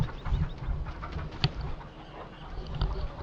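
Fattening chickens in Farming Simulator 2015 keep up a low, steady murmur of clucks, with a brief sharper squawk near the middle. No voices are heard.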